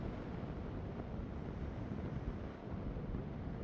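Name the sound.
strong wind blowing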